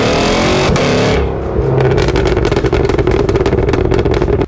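A supercharged 6.2-liter V8 in a 2023 Cadillac Escalade V revs up loud and close, a steady throaty roar that briefly dips then swells into rapid pulsing, with no talk over it.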